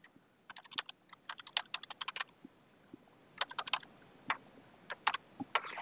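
Computer keyboard keys clatter in quick irregular bursts, soft and close, with short pauses between flurries of clicks and no talking.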